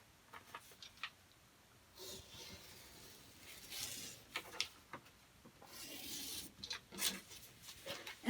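Scissors cutting out paper piecing patterns for a New York Beauty quilt, making soft snips and rustling paper scrapes close by, in uneven bursts with pauses.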